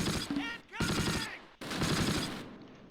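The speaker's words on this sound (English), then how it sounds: "We're under heavy fire." Gunfire in the World War II tactics game Close Combat: Panthers in the Fog, set at Barenton in August 1944, heard as dense bursts of rapid automatic fire with short gaps, fairly quiet overall.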